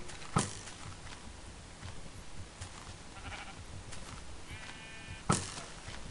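Sheep in the Minecraft video game bleat twice, a sharp close bleat at the start and another near the end, over quiet, steady game ambience.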